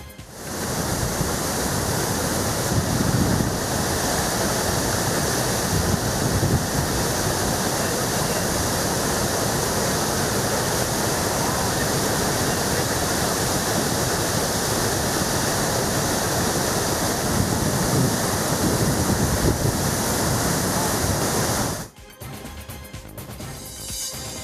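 Water released from the KRS dam into the Kaveri river roars in a loud, unbroken rush for over twenty seconds, then drops abruptly to a quieter flow at the end.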